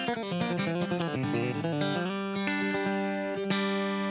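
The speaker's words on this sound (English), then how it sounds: "So now I've got my compressor and my EQ." Electric guitar played through a compressor and EQ with the 3K band boosted, picking a fast country-style run that settles into sustained, ringing chords, evenly loud and with no talking.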